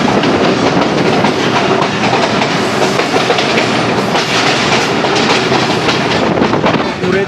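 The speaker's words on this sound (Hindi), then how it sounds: "अब हमारी ट्रेन जा रही है जी सियालकोट और नारोवाल ब्रांच लाइन पर" The 171-Up Sialkot Express rolls along the Sialkot–Narowal branch line in heavy rain, heard from inside as a loud, steady clickety-clack and rumble of wheels that runs unbroken throughout.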